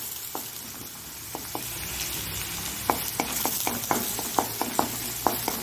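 Continuous close sizzle of frying in a pan while cooking moringa leaves scrambled egg, punctuated by a dozen or so sharp spatula taps and scrapes.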